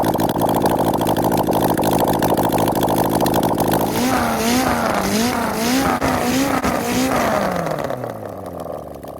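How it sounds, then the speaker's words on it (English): A Kawasaki Z1B 900 motorcycle engine runs without headers, a loud rough idle that climbs into several revving surges and then drops back as it winds down. "we're going to run it without the headers to see what it sounds like in comparison"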